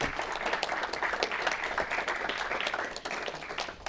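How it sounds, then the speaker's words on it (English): A crowd applauds steadily, dense clapping that holds throughout before thinning slightly near the end. "But we do have time for a round of applause."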